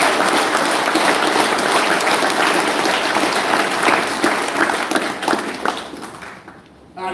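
Sustained applause from a large audience at a school prizegiving, dense clapping filling the room for several seconds before tapering off near the end.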